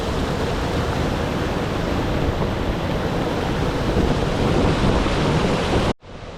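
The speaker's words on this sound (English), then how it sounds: "Never have I seen this much water on this particular part of the river." A river in flood rushes past in a steady, dense roar of high water, loud and unbroken until it cuts off abruptly near the end.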